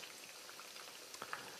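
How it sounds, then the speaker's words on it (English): Chicken pieces frying in hot oil at around 325 to 350 degrees give a soft, steady sizzle and crackle with scattered pops, fairly faint and continuous throughout. "we're just going to let these kind of fry and sizzle"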